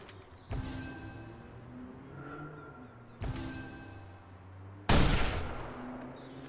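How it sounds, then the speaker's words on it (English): Sniper shots from a rooftop in Watch Dogs ring out as three sharp cracks, each trailing off into a short echo. The last is the loudest. "there's a guy sniping up on the roof"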